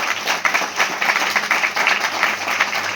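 Applause for Sister Sunita, a coordinator at a church fellowship gathering: dense, continuous crowd clapping that holds steady and fairly loud for the full stretch, with no voices over it.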